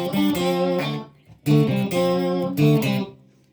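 Electric guitar run through a pitch shifter pedal adding a harmony interval above or below the played note, heard as three sustained chords or phrases with short gaps between them, clear and close with no talking.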